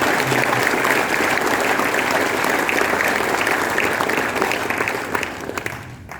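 An audience at an education briefing session claps loudly in sustained, dense applause that holds steady for several seconds before tapering off near the end.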